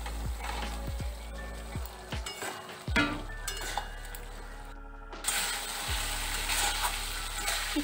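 Pointed gourd (potol) stirred in a frying pan with softened tomatoes, a spatula scraping and knocking against the metal in irregular strokes over a steady low hum and faint sizzle.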